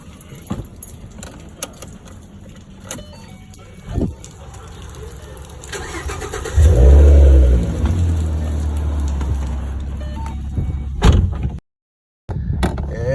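A 2014 Ford Mustang with a Roush axleback exhaust cranks and fires up, a loud deep rumble swelling in and then settling into a steady idle, with earlier jangling and handling noises and a brief dropout near the end.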